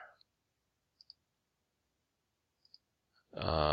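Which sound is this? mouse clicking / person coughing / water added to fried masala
mouse clicking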